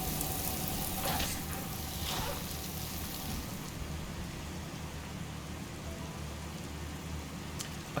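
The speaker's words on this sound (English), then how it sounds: "now you're going to hear a lot less of it because it's raining" Steady rainfall inside the video game Skyrim makes a soft, even hiss that holds throughout, fairly faint and unbroken, with a few brief louder crackles and no voices.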